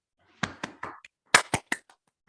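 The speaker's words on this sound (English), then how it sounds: "let's give Father April loud hands of applause" A few scattered handclaps at an inaugural ceremony, sharp and separate rather than a full sustained ovation, coming in two short clusters with brief gaps between them.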